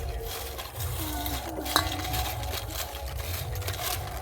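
Spice paste is worked together with black salt and regular salt for homemade potato chips, a steady wet stirring and scraping with a few faint clinks of utensil against a dish, close and continuous.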